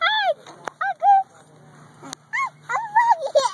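A young child at a pool imitates a goose, giving a series of short, nasal, rising-and-falling honks, with brief gaps between them and some talking mixed in nearby.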